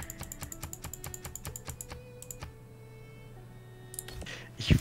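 Rapid, wild clicking on a computer keyboard during a Civilization VI game: a fast, even run of sharp keystrokes that stops after about two and a half seconds, leaving a quiet hum before a brief louder knock at the end.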